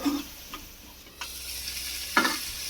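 Spice masala for a vegetarian soybean omelette curry being stir-fried in a pan: a low sizzle broken by a few sharp scraping stirs, close up, with no voices.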